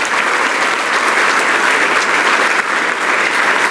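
A church congregation at a Sunday service applauds, a dense, steady, loud wash of many hands clapping together without pause.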